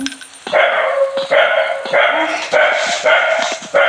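A dog barks about six times in a steady, evenly spaced run, each bark loud and close with brief pauses between.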